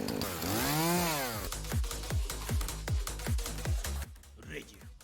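A chainsaw revs up with a rising, wavering whine, then drops into a rhythmic series of about nine repeating throttle bursts before tapering off. The saw is close and loud.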